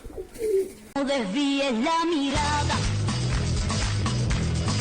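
Pigeons at a home loft coo in the foreground, with strong, wavering low calls that run almost continuously and close to the listener; a brief burst of music sits at the very start.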